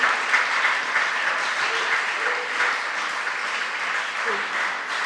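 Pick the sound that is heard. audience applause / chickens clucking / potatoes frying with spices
audience applause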